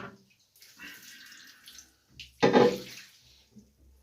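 Water escapes from a toilet bidet attachment where a worn gasket leaks under pressure: a faint trickling hiss, then a sudden louder splash and spray around the middle before it fades back to a quiet dribble.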